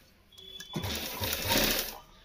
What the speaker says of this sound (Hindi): अब इसके ऊपर फिर से हमने यहाँ पे सिलाई लगा देनी है।